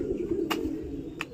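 Domestic pigeons cooing close by, a low continuous murmuring coo with a couple of brief sharper chirps, heard alone without speech.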